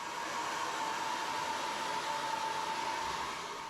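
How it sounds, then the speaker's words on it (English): Steady, loud whooshing airflow with a constant motor hum, like a hair dryer blowing continuously with no pauses. "I might need to dry that with a hairdryer"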